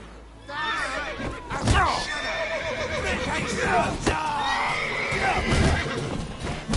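A horse in the game Witcher 3 gives loud, close neighs and whinnies, with hoof clip-clop and thuds, while voices speak over the scene.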